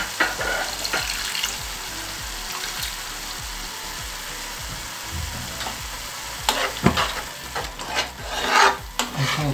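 Pizza dough for a spiced meat pizza being mixed by hand after water is added, a steady wet squelching and rubbing with soft scraping bursts, close and continuous, louder toward the end.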